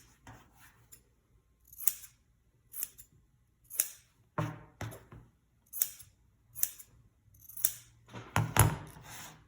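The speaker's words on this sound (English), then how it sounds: "Trim my threads too." Sewing scissors snip thread ends close by while a picnic roll-up is trimmed, a steady series of about ten crisp cuts roughly one per second, the last few coming faster, with no talking.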